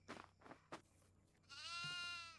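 A goat bleats in the horror game Devour, one long wavering cry that follows a few faint footstep-like sounds in an otherwise quiet scene.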